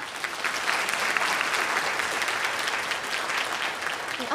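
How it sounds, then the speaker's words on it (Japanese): A room full of people clapping steadily at a university medical forum in Akita, a dense, even patter of applause that holds at a moderate level throughout. "皆様拍手でお送りください"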